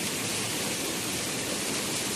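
Heavy rain driven by strong wind, a dense, continuous close roar of hiss with no pauses or voices.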